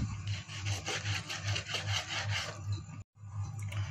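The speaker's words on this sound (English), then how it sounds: "I'm quickly going to cut my beef into strips" Knife slicing beef into strips on a cutting board, a close steady run of rhythmic rasping strokes with a low repeated thud, a brief pause near the end before cutting resumes, no voices.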